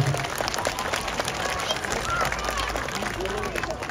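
Audience at a sea lion show at Blackpool Zoo claps and cheers, a busy crowd of applause with voices mixed in throughout.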